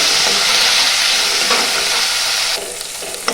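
Onion paste sizzles loudly and steadily in hot oil as it is stirred until reddish, with a few scraping stirs and a slight drop in the hiss near the end.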